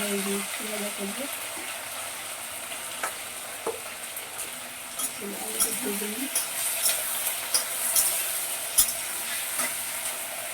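Potatoes fry in a pan with a steady, moderate sizzle that carries through the whole stretch, punctuated by occasional clicks and stirring knocks, while a voice murmurs faintly in places.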